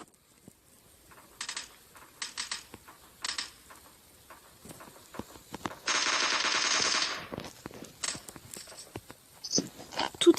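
Gunfire in the battle game PUBG comes as several short bursts, then one longer sustained burst, followed by scattered single shots and clicks at moderate volume.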